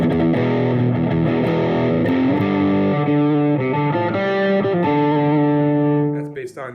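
Electric guitar through a Mesa Boogie rectifier amp preset without overdrive, playing sustained chords and notes with amp tone and reverb, loud and continuous, fading out at the end.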